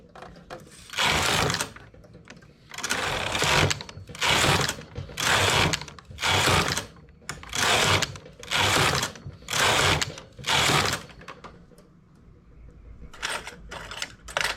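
Knitting machine working rows for a unisex collar, the carriage swept back and forth in about a dozen loud, rhythmic rasping passes separated by short pauses, close by.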